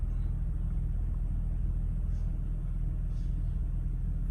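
A GMC Envoy engine idles steadily just after being started with a newly cut key, a constant low rumble at even volume with no revving.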